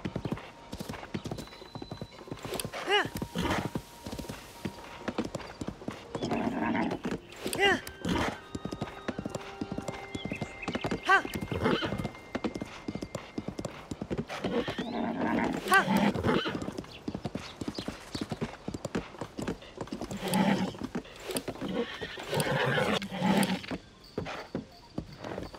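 Horse in Zelda: Tears of the Kingdom neighing and whinnying over steady hoof clip-clops, with game music and effects layered throughout and a voice talking at times.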